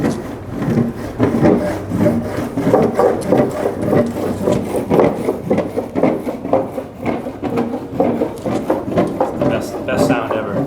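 Steady rubbing and scraping of a bar of surf wax across a nearly new, clean surfboard deck, continuous rhythmic strokes close up, loud throughout, with voices talking faintly underneath.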